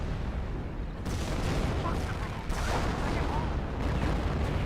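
Officer-called artillery strike in Company of Heroes 1, heard as continuous rumbling bombardment with repeated dull booms and crackling impacts, moderately loud throughout.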